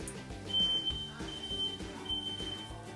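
Repeated high-pitched smoke alarm beeps, set off by cooking bacon, sound in short bursts, fairly clear above a steady background of music and room noise.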